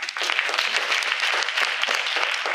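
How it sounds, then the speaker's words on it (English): Audience applause at a civic summit, brisk and continuous clapping from a crowd filling the room at an even level throughout. "Let's give him a round of applause."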